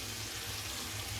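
Water from a rinsed mixer bowl pours into a pan of cooking spice paste, a brief, quiet, continuous splashing trickle.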